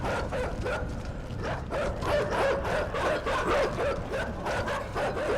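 Dogs in the game INSIDE bark in a steady run of repeated yaps over a dense, rumbling background, fairly loud and continuous throughout.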